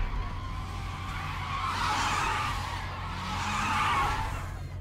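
Tires skid and squeal under a low engine rumble in the street racing game Need for Speed: Underground 2, a continuous grinding screech that swells twice over a steady motor drone.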